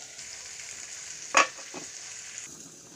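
Dal with bamboo shoot and potatoes bubbles gently over low heat, a soft steady hiss broken by one sharp clank of a spatula against the pot and a fainter knock just after.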